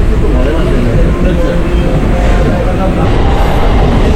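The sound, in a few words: local train departing from Sealdah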